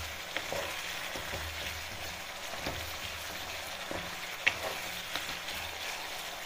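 Spice masala for a Bangladeshi duck curry fries in oil as a faint, steady sizzle, broken by soft scraping stirs and an occasional sharper tap of the spoon against the pan.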